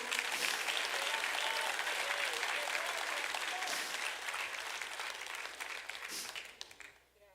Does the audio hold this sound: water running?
no